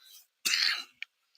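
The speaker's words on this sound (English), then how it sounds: "This cough is getting to me tonight." A single harsh cough bursts out close by, followed by a couple of tiny throat sounds, with quiet before it.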